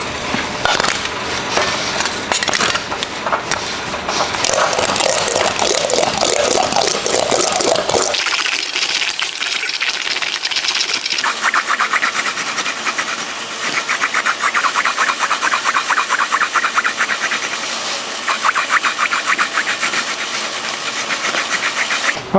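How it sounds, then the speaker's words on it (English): An English wheel rolling back and forth over a sheet metal panel to stretch it, with a loud continuous grinding rumble that shifts to a brighter, thinner rolling whir partway through, close and steady. "let's go stretch this back on the English wheel"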